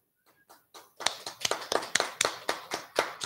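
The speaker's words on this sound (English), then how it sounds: "you need to add a nice little clapping track for us" Slow, even hand claps sound on a live radio show, starting faintly and then landing as a dozen or so crisp, evenly spaced claps, close and alone with no talk.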